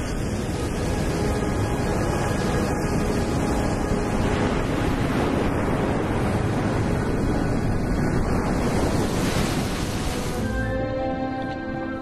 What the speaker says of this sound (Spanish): La recóndita Costa Verde, en el sudoeste de Cerdeña, es conocida por su fuerte oleaje.